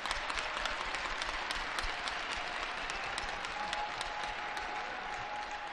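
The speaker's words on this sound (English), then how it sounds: "Let's give them a round of applause." Spectators applaud through a ceremony at a CWHL women's hockey game in an arena, Brampton Thunder at Calgary Inferno, with steady, even crowd clapping that carries through the whole stretch and sharp individual claps standing out.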